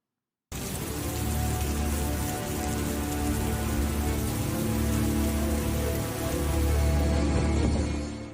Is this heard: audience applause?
no